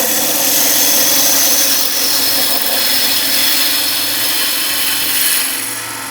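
A gouge shaving a spinning wooden bowl on a lathe gives a loud, steady hissing scrape over the motor's hum, continuous throughout, easing off slightly at the end.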